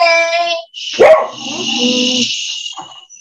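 A dog gives a loud, close bark followed by a brief whining yip, amid electronic tones or music in the background.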